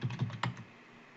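A few quick, soft clicks of computer keys being typed, very brief and faint, followed by quiet.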